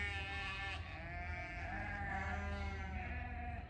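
Several sheep bleating on a farm, overlapping drawn-out bleats from a small flock heard at moderate distance, continuous throughout and alone without talk.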